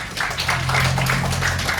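A group of people in a classroom clap their hands together in a short burst, fairly close and loud, with a hum and voices faintly underneath.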